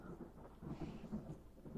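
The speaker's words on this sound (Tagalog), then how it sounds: "Ate, ang lakas ng kulog at kidlat" Loud thunder rumbles through a storm with steady rain, a dense low roll that swells and holds for the whole moment without a single sharp crack.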